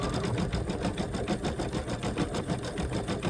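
An embroidery machine stitches a spring flowers umbrella design onto a towel, running a steady, rapid mechanical rhythm of needle strokes that stays close and constant throughout, with no talking.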